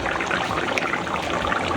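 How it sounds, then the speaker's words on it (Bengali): Fried hilsa fish pieces slide into a simmering, thin potato and aubergine curry, making a steady, loud watery bubbling and sputtering that lasts throughout with no talking. "এবার আমি এর মধ্যে ভেজে রাখা মাছগুলো দিয়ে দেব"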